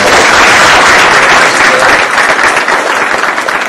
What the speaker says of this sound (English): if everybody could give Mohammed a round of applause